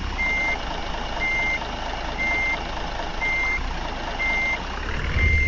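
A bus in the driving game Bus Simulator Ultimate sounds its reversing alarm: six steady, evenly spaced beeps about a second apart over a constant engine drone, with no talking.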